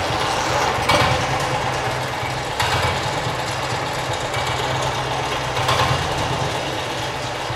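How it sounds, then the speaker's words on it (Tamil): A 1947 BSA BB31 vintage British motorcycle engine runs steadily at close range, a rough, low idling thump with a few slightly louder surges, and no voices. "இது வண்டி இப்படி தாங்க இந்த வண்டி இப்போதான் சத்தம் கேட்கும்"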